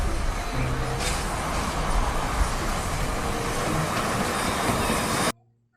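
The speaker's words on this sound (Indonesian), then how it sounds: "kalau yang ini adalah si kereta Thomas." A Thomas toy train runs with a steady rattling, clattering roll, loud and continuous for about five seconds before stopping abruptly.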